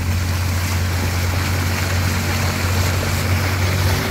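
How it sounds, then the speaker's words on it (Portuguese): Water rushes and splashes steadily around a speedboat moving on the Araguaia river, mixed with a low droning motor hum, loud and continuous with no voices. "eu acho bom esse barulhinho da água aí, ó"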